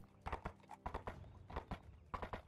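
Horse hooves clip-clopping in quick, repeated clusters of sharp strikes on a stone road, close and fairly loud with no voices.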